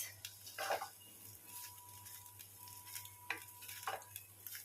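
A spoon stirs and mixes rice in a pan with soft scraping and faint sizzling, a few quiet scrapes and clinks against the pan, faint and close, without talk.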